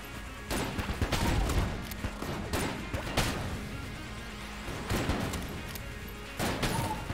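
Rapid gunfire and booming explosions from the Enter the Gungeon video game crackle in dense, continuous bursts with repeated heavy impacts, loud and busy throughout without speech.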